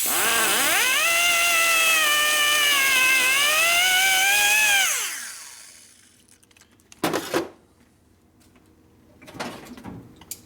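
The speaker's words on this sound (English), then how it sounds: "One place flap disc come in handy, making sure it's flatter." A flap disc grinding a 1952 Harley panhead 4-speed transmission part gives a loud, steady whine for about five seconds, its pitch sagging and rising under load before spinning down, followed by a couple of brief scraping knocks.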